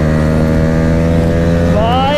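A modified Yamaha R15 and a Jawa 42 race side by side, their engines droning loudly and steadily close by, one engine's pitch climbing near the end as it revs higher.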